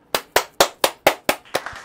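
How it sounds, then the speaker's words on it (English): Seven sharp, close hand claps ring out at an even, quick rhythm, each one crisp and alone with no talking. "when I clap, you need to clap. Now clap."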